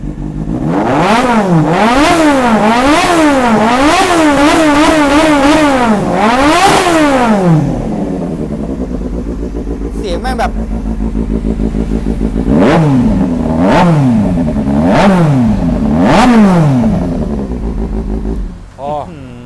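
A used motorcycle engine revs hard again and again, rising and falling in a fast series of throttle blips, then idles before a few more loud revs, close and dominant with voices nearby.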